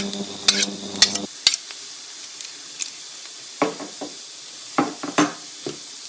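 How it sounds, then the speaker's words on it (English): Garlic frying in a pan for bolognaise, with a few sharp scraping stirs and clinks of a utensil, then a soft background hiss and scattered brief sizzling bursts, fairly close. "And then just give that a stir around."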